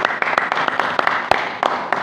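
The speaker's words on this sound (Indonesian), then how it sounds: "Tepuk tangan dulu." A congregation at a preached sermon claps in loose, uneven bursts of sharp, fairly loud claps that repeat across two seconds, with no voices over them.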